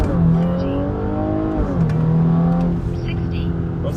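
A B9 Audi S4 with a Stage 1 tune and 18-inch wheels launches hard with wheelspin, its engine note climbing and dipping through a gear change, loud and close; a voice talks briefly at the start.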